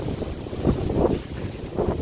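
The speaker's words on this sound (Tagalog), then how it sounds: "so sobrang lakas ng hangin" Strong typhoon wind roars and buffets the microphone in steady low gusts, with no voices.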